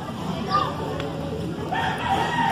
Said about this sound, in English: Look, the naughty chicken.